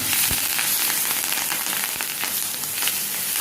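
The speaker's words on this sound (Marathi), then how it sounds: "जरा फ्राय व्हायला द्यायचं" Curry leaves and dal sizzle in hot oil for an okra curry, a steady dense crackle with sharp pops scattered throughout.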